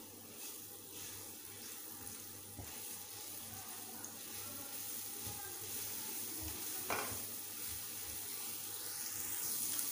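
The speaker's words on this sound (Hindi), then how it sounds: "इसको थोड़ा सा फ्राई कर लेते हैं।" Garlic ginger paste frying in a pan: a faint, continuous crackling sizzle with occasional stirring scrapes and a soft watery hiss building toward the end, no voices.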